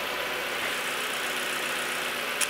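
An Audi Quattro 1.8 turbo engine runs at a steady idle, a continuous even rushing drone recorded close, with a brief click near the end.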